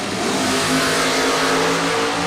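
Drag racing cars rev loudly at staging during a door car event, their engines droning with steady harmonic tones and building in intensity, close by and continuous with no talk over them.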